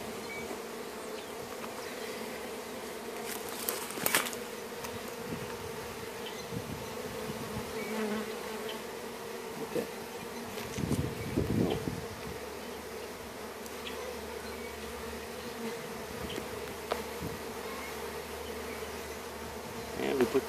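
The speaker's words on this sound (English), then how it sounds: "And they will find their way into the hive." Honeybees being installed into a hive fill the air with a dense, continuous buzz, close and steady throughout, with occasional louder passes and small knocks.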